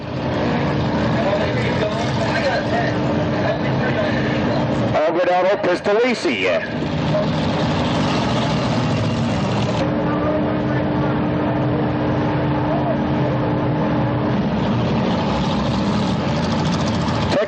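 Sportsman race cars circling a speedway during a 100-lap enduro at the Orange County Fair: a constant engine rumble, briefly broken by a sweeping pass around the middle, with a voice talking over it.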